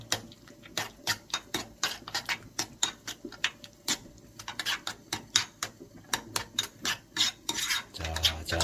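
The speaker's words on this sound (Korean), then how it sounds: "잘 저어줍니다." A spoon stirring a honey-sweetened sauce in a bowl, quick rhythmic clinks and scrapes repeating steadily and close, with no voices.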